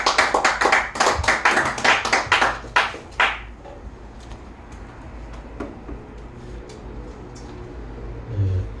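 Lecture audience at a personal-finance seminar bursts into applause, a dense burst of clapping for about three seconds that then fades to scattered claps and a quiet room murmur.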